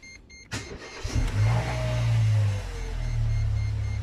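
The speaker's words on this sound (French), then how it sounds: "On va démarrer la voiture." Mercedes A150 W169 car engine cranks and fires up, a brief starter whir followed by a steady, close mid-pitched idle that settles and holds.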